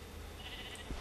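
A sheep in the video game Minecraft gives a single drawn-out bleat over a constant background hum, moderately loud and with no talking.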